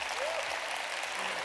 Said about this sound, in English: You guys clapped?